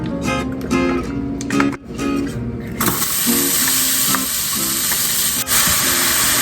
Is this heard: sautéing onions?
yes